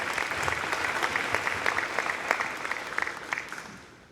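A crowd at a community youth symposium applauds the mayor with steady, dense clapping that holds for several seconds and then tapers off near the end.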